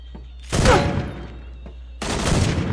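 Loud bursts of gunfire crack out in a shooter game, one volley near the start and another after two seconds, with a quiet gap in between.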